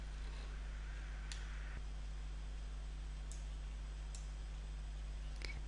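Mouse clicks in BioNumerics 7 fingerprint-analysis software, four or five sharp, quiet ticks spaced irregularly over a steady low hum and faint background hiss.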